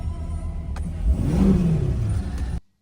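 A 2025 Corvette rated at 1064 horsepower revs while driving, its loud close engine rising into a deep building roar before cutting off sharply.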